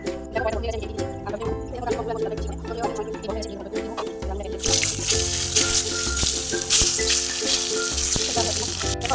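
Potatoes drop into a hot kadai of oil midway and a loud, bright sizzle of frying takes over, continuing steadily with background music.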